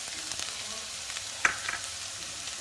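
Minced garlic frying in hot cooking oil in a pan, a steady close sizzle with a brief scrape or clink partway through.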